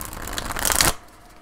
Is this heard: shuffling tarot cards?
yes